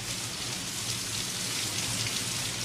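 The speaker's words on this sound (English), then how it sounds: "It's raining inside the store." Steady rain pours down inside a store in a Sesame Street scene, a continuous close hiss of drops spattering on surfaces with no pauses and no voices.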